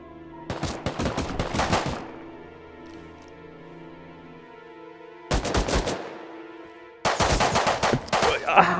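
Bursts of automatic gunfire in the survival video game Rust, rapid loud volleys around 0.5–2 s, 5.3–6 s and from 7 s onward, separated by a quieter stretch of low ambient game sound.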